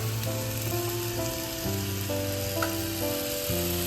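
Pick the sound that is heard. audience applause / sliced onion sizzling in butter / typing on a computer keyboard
sliced onion sizzling in butter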